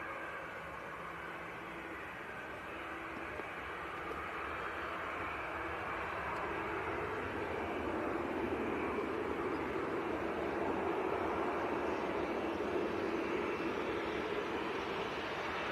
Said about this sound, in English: Not sure why the Sun Express revved it up onto full power for so long before releasing the brakes.